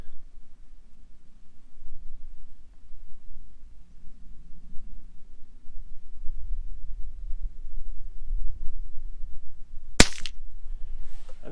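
A single sharp .22 revolver shot cracks near the end at an outdoor shooting challenge, loud and alone after a long stretch of quiet ambient rumble.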